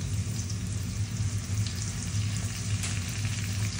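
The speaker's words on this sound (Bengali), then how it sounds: "দিয়ে দিচ্ছি পেঁয়াজের কুচি তেলের মধ্যে। এই পেঁয়াজ কুচিটা ভাজবো।" Chopped onion frying in hot oil, a steady close sizzle with faint crackles running evenly throughout with no talking.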